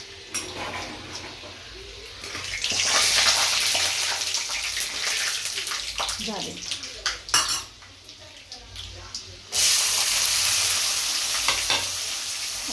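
Peanuts sizzle and fry in a pan in a home kitchen, with a steady hiss, scraping stirs and metallic clinks of a spoon against the pan, loud and close with brief louder bursts.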